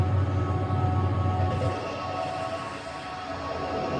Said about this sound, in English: That's the sound of a little piece of cast iron getting trapped between the job and the steady